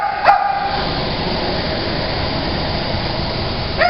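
Dog barking at an animal shelter, two short distant yips at the start and end over a steady loud kennel din.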